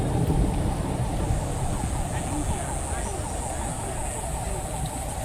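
Steady rain falls on the streets of Getsemani in Cartagena, Colombia, during the rainy season, a constant broadband wash with low wind rumble throughout.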